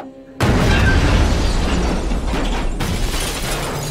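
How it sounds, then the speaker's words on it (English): A loud movie explosion from a depicted car bombing in Cleveland bursts in suddenly after a brief quiet moment, then a dense roaring, rumbling blast sustains and shifts for several seconds with no voices. "Here's the movie's depiction of the bombing"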